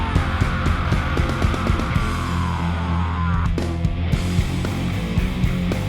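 Live death metal song with a horror-punk edge: a dense, loud, continuous wall of distorted guitars and pounding drums with a steady driving beat throughout, no talking.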